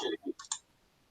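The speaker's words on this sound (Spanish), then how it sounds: "Ahí dele clic." Two quick computer mouse clicks land close together during an online tutoring session, close and fairly quiet, just after a brief voice fragment, then near silence.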